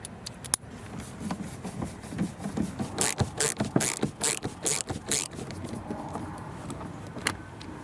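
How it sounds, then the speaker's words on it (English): Screws being backed out of a Volvo XC interior door panel with a Torx 25 bit, giving a close series of sharp clicks, scrapes and small metallic rattles that bunch together near the middle. "two more screws that we need to remove. For this we'll use Torx 25 bit."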